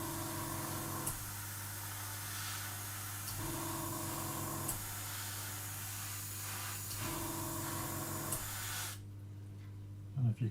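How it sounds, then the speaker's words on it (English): An airbrush sprays paint while its air compressor runs, giving a steady close hiss over a low mechanical hum that pulses in a regular cycle, then cuts out near the end. "the line for the airbrush is where all the air is, so you'll hear the compressor cut in quite a bit"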